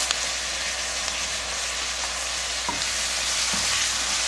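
Anchovies stir-fry with garlic scapes in a soy and chili-flake sauce, making a steady, close bubbling sizzle with a couple of soft stirring knocks.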